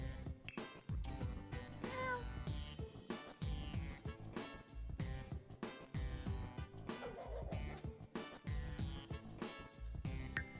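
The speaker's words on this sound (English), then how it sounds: "It's just a cat, you know? Just the most catty cat." A cat in The Sims 4 meows over a dense, continuous bed of game music, its calls short and fairly faint within the busy mix.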